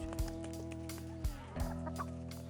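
Backyard chickens clucking nearby, a few short clucks rising over a steady low hum, with no talking.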